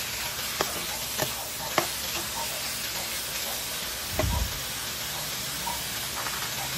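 Marinated pork, soaked in dried fish and pineapple tidbit juice, sizzles steadily in a hot pan, with a few sharp spatula clinks and stirring scrapes over the continuous frying hiss.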